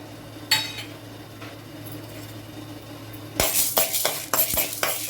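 Chana dal roasts in a little sesame oil in a pan under a faint, steady sizzle, then a utensil scrapes and clinks against the pan in a quick run of stirring strokes near the end.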